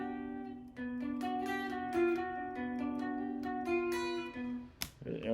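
An electric guitar riff plays with several sustained, ringing notes and a slightly fumbled late hammer-off near the end, followed by a brief scrape, close and alone.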